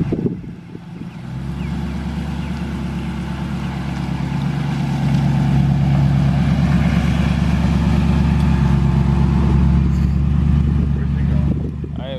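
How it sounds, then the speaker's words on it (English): A large truck engine rumbles steadily at close range, a loud low drone that swells and holds for several seconds, with people talking over it. "That's a big ass truck."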